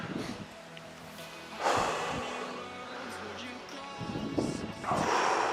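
Several people breathe loudly together during a HIIT workout set, with bursts of heavy exhaling and gasping that rise and fall over a few seconds, close and noisy.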